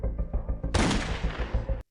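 A single gunshot in the film Roadkill cracks out as one loud, sudden burst that rings briefly and cuts off, breaking through a low, pulsing background bed.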